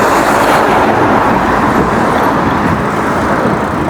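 Dense, loud roar of busy traffic on a rural road in Japan, with passing cars and heavy trucks heard from close by as a continuous wash of tire and engine noise, no talking.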